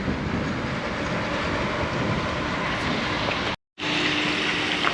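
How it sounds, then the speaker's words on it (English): A Disney resort monorail rolls past near the Grand Floridian with a steady, loud rushing rumble and a faint rail hum, briefly cut off by a short gap, with no voices. "Monorail green."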